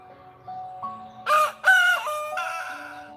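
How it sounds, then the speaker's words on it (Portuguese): A rooster crows loudly and close by, giving two or three strong drawn-out calls in quick succession, with no talking over it. "O galo cantou."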